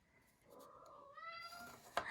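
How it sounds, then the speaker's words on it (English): A male house cat gives a drawn-out, rising meow at fairly close range, the call stretching across most of the moment before a brief sharp knock near the end, with no talking over it. "He is my only cat that makes that noise, and that usually means that he would like to play."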